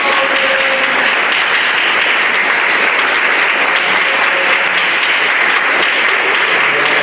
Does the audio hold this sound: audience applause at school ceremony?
yes